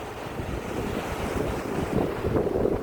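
Evening wind gusts and sea waves wash onto the beach at Prachuap in a continuous, moderately loud roar, with the surf swelling slightly toward the end and no voices.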